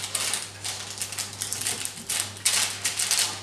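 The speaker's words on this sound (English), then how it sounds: "So I'm going to cut this into strips" Oven-baked flat mince beef sliced into strips with a knife on a board, giving a series of soft crisp cutting strokes at close range with a steady low hum beneath and no talking.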